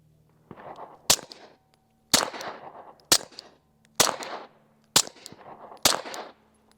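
Six sharp suppressed pistol shots from a SilencerCo Maxim 9 and a Glock, fired one at a time at roughly one-second intervals, each a loud crack with a short ringing tail, nearby.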